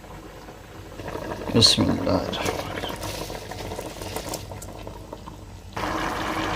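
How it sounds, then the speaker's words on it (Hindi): Rice poured into a pot of boiling water for chicken vegetable pulao, giving a bubbling, pattering wash with a louder splash early on, while a voice speaks briefly. "पानी को बॉयल आ चुका जी। चावल ऐड करेंगे।"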